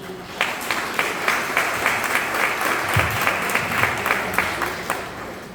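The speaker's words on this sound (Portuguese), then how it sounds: "A ele uma salva de palmas." A congregation applauds during Sunday Mass at a chapel, with sustained, even clapping from many hands, moderately loud and reverberant, continuing steadily for several seconds without speech.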